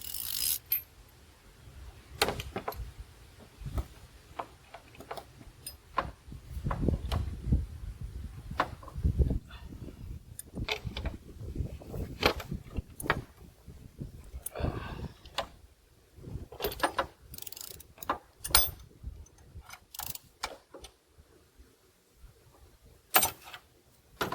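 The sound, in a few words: ratchet loosening Ford 7.3 Power Stroke injector cup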